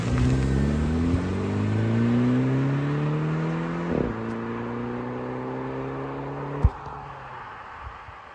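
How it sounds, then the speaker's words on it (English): A Mini Cooper S pulls away from a standstill outdoors, its engine rising in pitch through the gears with two clear shift breaks, heard from outside the car as it accelerates steadily and fades a little. "This is the takeoff of the Mini Cooper S from an outside view."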